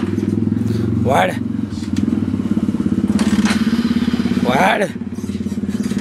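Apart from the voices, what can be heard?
motorcycle failing to start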